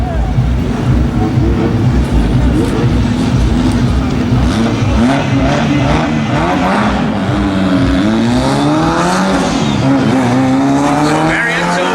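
A drag racing car on a solo bye run at a dragstrip, in a Fuel Injector 1050 index class, its engine roaring loud and continuous with rising revs, while an announcer's voice talks over it.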